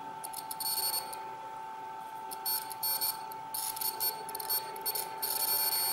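Multimeter set to continuity mode beeping as its probes test a circuit, wire or diode, giving repeated short high-pitched tones in uneven bursts over a steady faint hum, with no talking.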